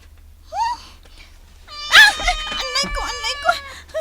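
A cat meows in a few drawn-out, wavering cries, the first short and faint, then longer and louder wails up close, with a voice speaking around them in a quiet room.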